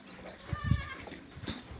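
A weak newborn goat kid gives a few short, faint, thin bleats close by, with soft rustling between them and no talking.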